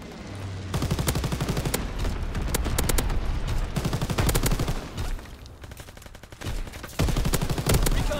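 Rapid bursts of MG42 machine gun fire in the World War II shooter Call of Duty WW2, loud and near, with repeated long automatic strings broken by brief pauses.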